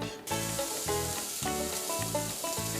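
Sausage sizzles in a frying pan, a loud, steady, close hiss of frying that runs throughout with no pauses and no voices.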